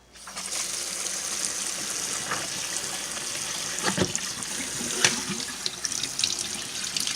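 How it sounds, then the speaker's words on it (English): Tap water runs steadily over dried black beans in a colander at a kitchen sink, a continuous close gush with a few brief clinks and splashes as the beans shift, no talking. "dump them in the colander and rinse them out"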